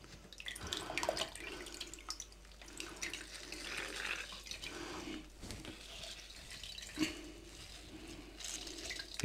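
Soaked bread is squeezed by hand to press water out for Königsberger Klopse, giving faint, close wet squelches, trickles and drips in soft irregular bursts with no talking.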